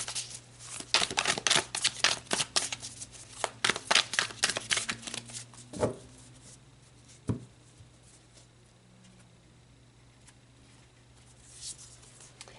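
Tarot cards shuffled by hand, a rapid run of crisp riffling flicks and slaps close up, followed by a couple of single card snaps and quiet.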